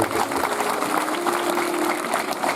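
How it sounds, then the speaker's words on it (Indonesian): A congregation applauds during a youth revival worship service at SMP Negeri 1 Sianjur Mula-mula, with loud, dense, continuous clapping filling the whole moment and a faint steady hum underneath. "Berikan tepuk tangan bagi Tuhan"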